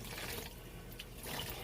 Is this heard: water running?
yes